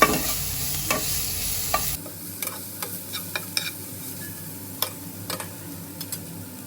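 A spiced mixture with turmeric sautés in a pan over a medium flame for aloo paratha filling, a soft sizzle under light spatula scrapes and taps that come in an irregular series, close by.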